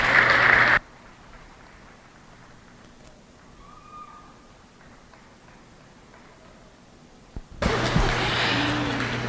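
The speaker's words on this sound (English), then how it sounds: "So let's give all of our dairy exhibitors a big, big round of applause" An audience at a youth fair goat show applauds dairy goat exhibitors: a short burst of clapping, a long quiet stretch, then the applause resumes loudly and continues to the end.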